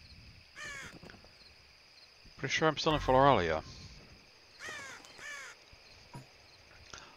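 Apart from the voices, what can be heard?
crows cawing in Dark Parables: Ballad of Rapunzel video game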